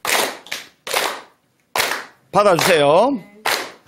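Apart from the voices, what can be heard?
clapping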